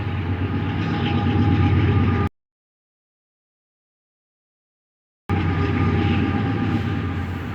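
A passing train rumbles loudly and steadily close by, the roar cut by about three seconds of dead silence midway before resuming just as strong.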